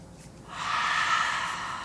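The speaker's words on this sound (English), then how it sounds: "Take about 3 more deep breaths here." A single deep breath taken during a slow yoga flow, one long, airy breath that swells up and slowly fades over about a second and a half, close and clear with no talking.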